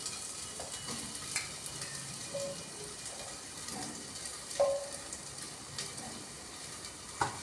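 Cut papaya is fried in a pressure cooker, giving a low steady sizzle with occasional soft knocks and scrapes of stirring, close and without speech.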